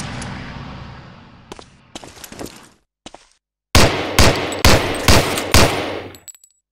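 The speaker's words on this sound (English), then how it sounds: "Try a couple of shots on that target with your 45." Shots from a .45 pistol in the Medal of Honor: Allied Assault basic-training range, a string of loud, sharp cracks in a close rhythmic series of about five, following a few scattered earlier bursts and brief silence.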